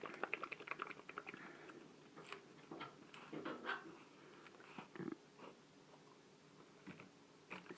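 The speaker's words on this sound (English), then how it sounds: "Puppy's scratching on the door. He wants to come in." A boxer puppy scratches at a door in quiet bursts of dry clicking and scraping, with brief thumps between pauses, faint and close.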